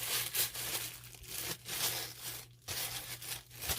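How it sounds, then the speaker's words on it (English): A plastic bag handled while covering a flower arrangement made from a repurposed plastic jug, giving soft, intermittent crinkling and rustling in short bursts, close but quiet, over a low steady hum. "So I'm just going to grab my plastic bag."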